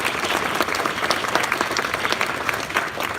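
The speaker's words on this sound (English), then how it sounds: "you can give me a round of applause" An audience at a company building ribbon-cutting ceremony claps steadily for a few seconds, a close, continuous wash of applause from a moderate crowd.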